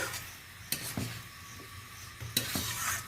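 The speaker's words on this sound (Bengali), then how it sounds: "ঢাকনা খুলে আবার একবার আমি ভালো করে সমস্ত কিছু নেড়ে নিচ্ছি।" Dal with tomato, onion and yardlong beans stirred in a pot once the lid is off: soft scraping strokes and a few light clinks of a spoon against metal, quiet and close, over a faint low hum.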